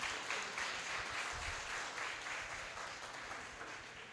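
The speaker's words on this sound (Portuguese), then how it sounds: "eu quero que vocês deem uma salva de palmas para todo mundo aqui da Inovativos" An audience at an Inovativos talk on data and personalization claps together in sustained applause, dense and even, heard alone without speech.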